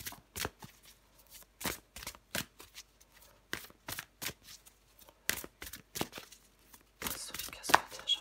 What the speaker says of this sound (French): je prends encore une carte pour vous les poissons